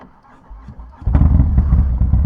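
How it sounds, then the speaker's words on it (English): Motorcycle engine starting up nearby: a brief low turnover, then the engine catches and settles into a loud, steady, throbbing idle. "Let's start the bike up."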